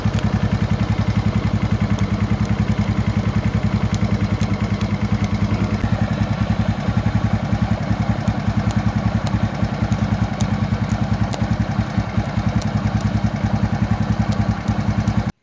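A motorcycle engine idles steadily close by during a half-wave voltage regulator check, a rapid, even chugging with light mechanical clatter throughout and no voices.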